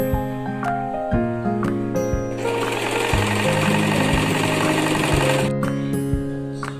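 An Elvira Sweety sewing machine stitches fabric for an owl key cover, giving a loud, close, steady mechanical whir and rapid needle clatter with brief stops and restarts, set against a background tone.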